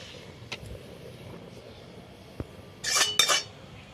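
A metal kadai is handled and set back down on a village kitchen stove, giving a couple of faint knocks, then a short burst of bright clanking and scraping near the end, with no talking.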